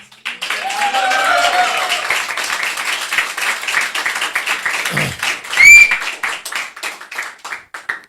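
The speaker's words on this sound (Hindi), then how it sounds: "ताली बजा दो, चीख दो, चिल्ला दो" A seated group claps and cheers loudly on cue, with dense continuous clapping, a few whistles and shouts, and a brief voice near the end.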